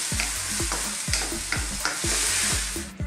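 Noodles stir-fried with dried roasted shrimp sizzle loudly in a pan, with rhythmic tossing strokes about every half second over a constant hiss, and no voices.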